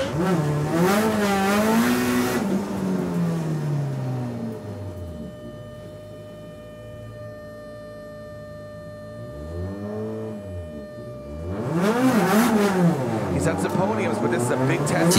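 A BMW E46 drift car with a Japanese 2GZ engine of 700 horsepower in a drift competition, its engine rising and falling in pitch with loud revving sweeps, under a commentator's voice that runs through most of it.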